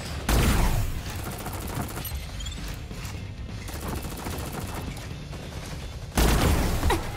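Rapid bursts of gunfire in the video game Super Mecha Champions crackle and boom in a dense barrage, loud at the start and end with continuous shooting in between.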